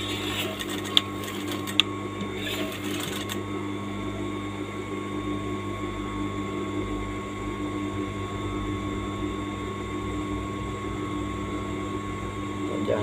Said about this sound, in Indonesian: Jahit pelan-pelan, jangan terburu-buru.